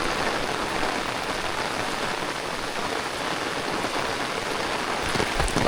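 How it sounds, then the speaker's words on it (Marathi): Heavy monsoon rain pouring steadily in a Palghar village in the Konkan, a dense, even hiss of drops on surfaces, constant and moderately loud throughout, with no voices. "पाऊस गावाला पण काय थांबायचं नाव घेत नाही"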